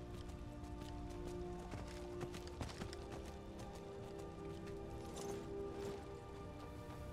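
Horse hooves clip-clop at a run in Skyrim, The Elder Scrolls V Special Edition, a steady rhythmic beat over a dense game soundscape, with no talk.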